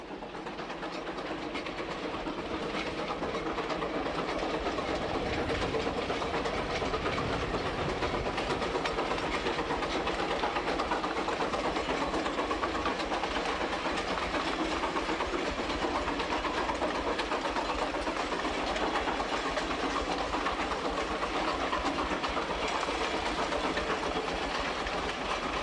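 A vintage steam locomotive hauling a train, a continuous loud rolling roar with rhythmic rail clatter and hissing steam throughout, close by and without voices.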